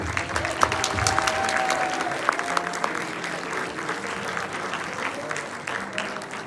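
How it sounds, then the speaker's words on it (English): An audience at a school play applauds a performer with a steady wash of clapping, a few sharp individual claps and a whistle standing out early before the sound slowly thins. "let's give him one more round of applause"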